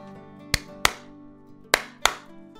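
Four sharp, separate hand claps in an uneven pair-then-pair rhythm, close and crisp, made by white-gloved hands in a French audiobook scene, with a faint steady hum beneath and no voices.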